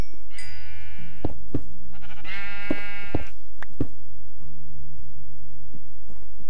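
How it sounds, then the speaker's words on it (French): Sheep in Minecraft bleat loudly twice in close succession, each cry wavering and drawn out, over a low steady hum punctuated by several sharp thuds and clicks from the game. "Bon, je veux ce mouton."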